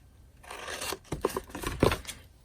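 Scissors snip across the top of a paper box in a crafting project, a handful of short crisp cuts in quick succession, close and fairly quiet.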